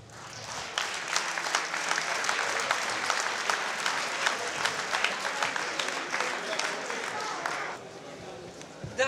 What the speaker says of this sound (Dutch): Geef er even een warm applaus.